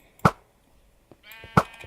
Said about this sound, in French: Tu vois, c'est le mouton soigneur